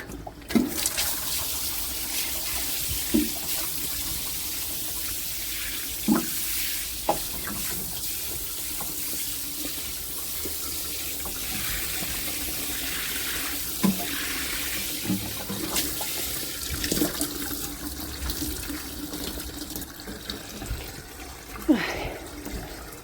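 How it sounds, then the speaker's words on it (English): A washing machine rinsing with hot water, giving a steady wash of running, splashing water broken by short gurgling bursts and clunks, close by with brief talk over it. "The wash machine is rinsing there. Look at hot water in that."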